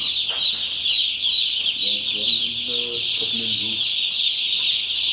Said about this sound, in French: Combien de poussins ici? Il y a 1000.